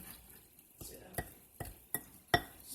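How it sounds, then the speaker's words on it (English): Flour being stirred in a bowl for pig-in-a-blanket dough, a quiet scraping with several sharp clinks of the utensil against the bowl at irregular intervals. "we're just gonna mix this well"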